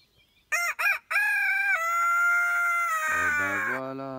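A farmyard rooster crows once, loud and close, with a couple of short clipped notes leading into a long drawn-out call that drops lower at the end.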